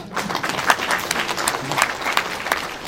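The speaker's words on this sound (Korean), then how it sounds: "아직도 못 알아들은 분이 많으면 박수를 한번 쳐보세요" A lecture audience claps together during a talk on Korean reunification, a lively, uneven patter of many hands with sharper bursts scattered through, loud and close.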